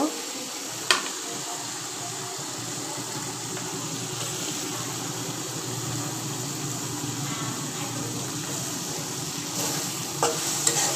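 Dried fish (shutki) sautéed in oil and spice paste in a pan, with steady low sizzling and scraping stir strokes throughout, a couple of sharper clinks near the start and end.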